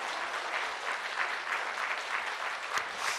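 Soft, even applause from a church concert audience, a continuous patter of many hands clapping at a moderate distance.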